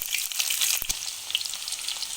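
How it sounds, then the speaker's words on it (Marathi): Onion fries over medium heat in a pan for a tempering, giving a continuous close hissing sizzle broken by a couple of sharp crackles and pops. "कांदा मध्यमाचेवर फ्राय करून घ्यायचा आहे"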